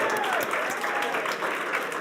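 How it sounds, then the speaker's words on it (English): A crowd at an awards nominations event delivers a big round of applause for the nominees, dense continuous clapping with some voices mixed in, loud and close. "A huge round of applause for all the nominees tonight."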